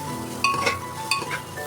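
Fennel powder being stirred into food in a pan on medium heat, a few soft scraping strokes and light clinks over a faint background sizzle, close and brief.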